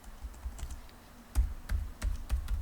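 Keys on a computer keyboard tapped in short irregular bursts while VBA code is written, close and fairly quiet, with no voices.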